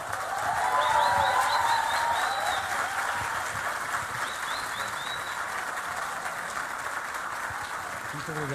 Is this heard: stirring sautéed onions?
no